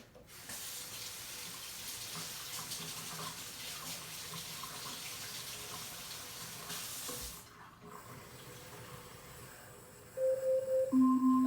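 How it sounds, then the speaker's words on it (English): Warm water runs steadily from a kitchen tap while bread is being made, a continuous close splashing stream that cuts off partway, followed by a few brief clinks. "Whoops, let me get some more warm water"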